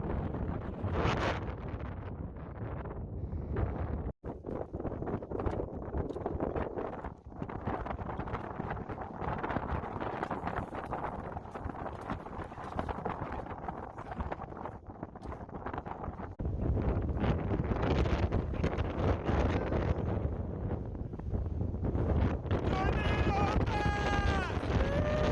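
Strong wind on a mountain pass batters the microphone in a continuous loud roar that swells and dips. A hiker is talking beneath the gusts, and faint higher calls come near the end.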